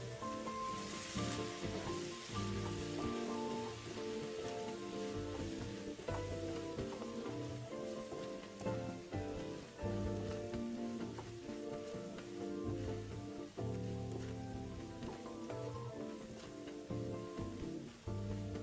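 Sauce and oil sizzle steadily in a wok as braised abalone and pork are stir-fried over medium heat with a silicone spatula, a continuous close crackle with light scraping and stirring.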